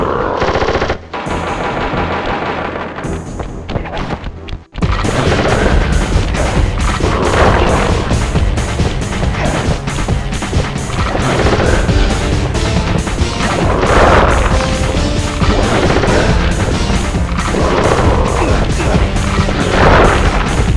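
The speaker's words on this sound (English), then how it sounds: "Beautiful gun is destroyed!" Sustained machine-gun fire and crashing impacts in the Sly Collection video game, a loud rapid rattle with heavy booms and smashes that starts after a short quieter lead-in and runs continuously to the end, with no voices.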